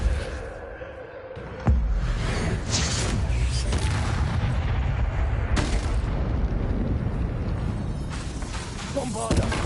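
Bombarda blasting spell in Hogwarts Legacy, with a sudden heavy boom followed by a long rumbling roar of debris and further crashes, with a voice speaking over it.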